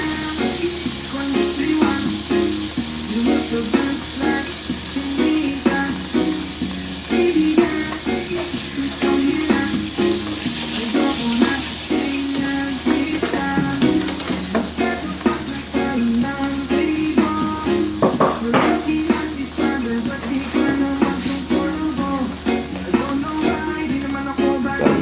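Garlic and shaved steak fry in a pan with a loud, dense, continuous sizzle and crackle that holds steady throughout, with faint tonal clatter underneath.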